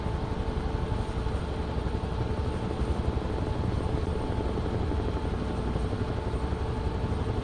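A C-47 piston engine in Microsoft Flight Simulator 2024 drones as a loud, steady low rumble with a fast rhythmic propeller beat, unchanging throughout and heard without talk.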